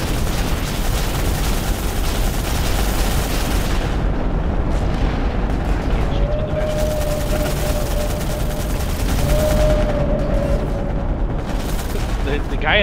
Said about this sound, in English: The guy in the turret is shooting us.